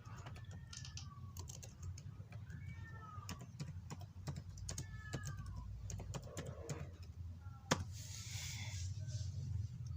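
Someone types on a computer keyboard while entering data in statistics software, making a quick, irregular patter of soft keystrokes close by, with faint chirps from a cat or bird in the background.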